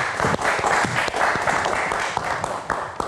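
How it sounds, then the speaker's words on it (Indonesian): Studio audience applause on an Indonesian late-night live talk show, a dense steady wash of clapping that fills the whole stretch at full, even loudness with no talk over it. "Kita berikan tepuk tangan."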